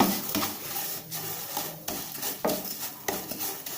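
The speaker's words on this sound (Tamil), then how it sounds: "இந்த சேமியாவை இப்போ இதில் போட்டு நாம வறுத்து எடுத்துடலாம்" Vermicelli roasting in a pan for sweet semiya pongal, stirred with a spoon that scrapes and taps the metal in uneven strokes over a faint dry sizzle, close and without talk.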